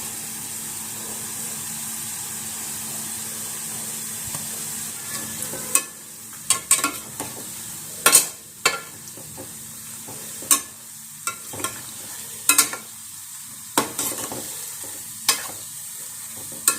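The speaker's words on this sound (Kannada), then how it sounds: "ಇವಾಗ ಎಣ್ಣೆ ಬಿಸಿಯಾಗಿದೆ. ಒಂದೊಂದೇ ಇದಕ್ಕೆ ಹಾಕಿ ಸ್ವಲ್ಪ ಗೋಲ್ಡನ್ ಬ್ರೌನ್ ಬರೋವರೆಗೂ ಹುರಿಯೋದು." Jamun dough balls fry in hot oil with a steady bubbling sizzle, broken by sharp, louder pops and crackles that come at irregular moments throughout.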